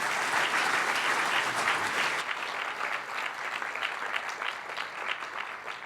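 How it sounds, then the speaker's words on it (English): An audience at a high-level conference panel on capital markets applauds the panelists, a dense, steady clapping that stays loud before easing slightly toward the end. "a warm round of applause for my esteemed panelists today"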